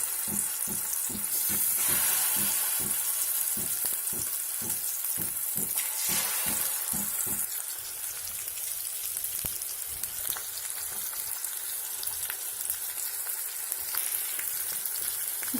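Fish fries in hot oil in a kadhai, a continuous loud sizzle with repeated stirring or scraping knocks early on, then settling into an even crackling hiss.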